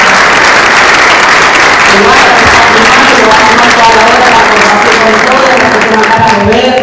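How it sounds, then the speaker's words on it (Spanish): A theatre audience applauds the sound crew, steady loud clapping from many hands filling the room throughout, a dense continuous patter with faint overlapping voices beneath. "los sonidistas de Jorge Botelli, a quien les pido un aplauso porque han trabajado muchísimo"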